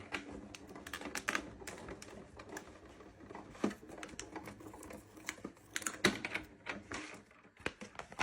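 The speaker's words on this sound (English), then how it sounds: "we're rolling through our Sizzix Big Shot Plus, the Gianna in full cuts" A Sizzix Big Shot Plus die-cutting machine is cranked by hand, making a quiet, steady series of clicking ratchet-like taps and creaks up close.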